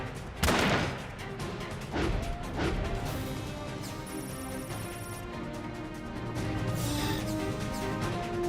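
Mech rifle fire in Front Mission 5 sounds as loud metallic shots and crashing impacts, a few sharp bursts early and then denser combat noise over game music.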